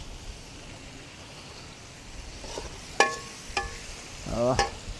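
Meat tipped into hot oil in a pot crackles and sizzles near and moderately loud, with a few sharp bursts and a louder stirring clatter near the end over faint background hiss.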